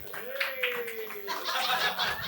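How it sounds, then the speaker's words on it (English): Live-show audience clapping steadily as guests walk on stage, fairly close, with laughter and a host's voice over the applause. "Keep clapping."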